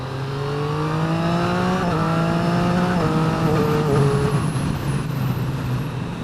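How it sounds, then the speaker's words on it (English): Triumph Street Triple RX motorcycle exhaust on a 2015 model while riding, a loud continuous engine drone with rising revs that drop sharply at two downshifts, steady and close throughout. "that exhaust sounds nice though, doesn't it?"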